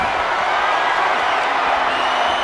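A loud arena crowd roars steadily in WWE 2K25 during an Extreme Rules custom match, a dense wall of cheering and whoops held at constant level throughout, with faint commentary underneath.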